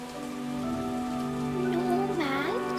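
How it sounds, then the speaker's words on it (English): Steady rain falls in a continuous soft hiss throughout, under a sustained melodic music line. "He stood still for a moment, watching the rain."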